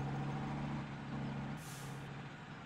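Game truck in Farming Simulator 2013 rolling over asphalt, a steady low engine drone with tonal hum, joined midway by a brief hiss like an air brake release.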